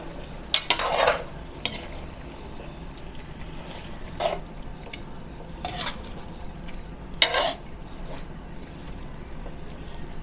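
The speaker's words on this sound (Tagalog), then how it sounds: "Haluin po natin." Chicken cooking with ketchup in a frying pan is stirred with a utensil, giving a few distinct scraping strokes spaced a second or two apart over a low steady sizzle, close by and moderately loud, with no voices.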